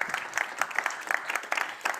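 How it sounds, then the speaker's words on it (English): A short burst of applause at a startup innovation awards final, a room full of hands clapping briskly and steadily for a couple of seconds. "Let's give a round of applause to CropScan."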